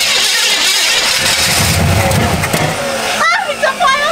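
A barn-find Chevrolet El Camino that sat for years cranks and sputters with loud, rough bursts, then breaks into a brief pop, with excited voices talking and shouting over it throughout.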